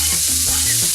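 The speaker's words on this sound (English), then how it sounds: "If you don't hear that sizzle, then your pan is not hot enough." Chicken stir fry hitting a hot pan, a loud continuous sizzle of frying with low scraping and stirring strokes underneath, close up and with no voices.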